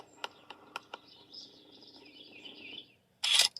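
Several small birds chirping in a quiet morning neighborhood in North St. Louis County, with sharp separate tweets early on, then a thinner steady trill and one loud burst near the end, all over a faint low hum.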